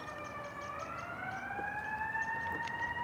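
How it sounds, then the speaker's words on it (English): An emergency vehicle siren wails steadily, its rising tone sweeping upward as it passes at moderate distance, fairly faint with no talk over it. "Come through with the sirens. That was perfectly timed, y'all."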